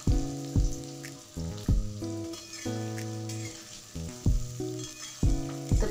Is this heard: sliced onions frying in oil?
yes